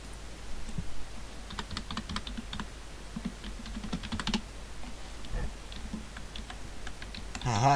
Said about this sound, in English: Haha, you can't see what I'm typing in teacher.